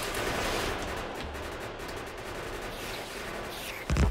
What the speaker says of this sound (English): the turrets are not particularly effective against these biters anymore.